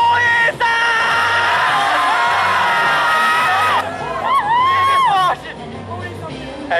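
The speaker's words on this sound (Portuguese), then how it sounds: "Vai dar um grito aqui de torcida, apoiando ela." A crowd at the Miss Ceará 2013 pageant cheers and shouts for a contestant, with loud whoops and yells over a din of voices. Excited cries rise and fall throughout.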